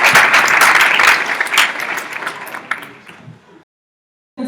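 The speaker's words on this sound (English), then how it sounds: "a round of applause to Mashirika Group." Audience applause at an international HIV research conference, a dense burst of clapping that fades over about three seconds before silence, then a brief restart at the end.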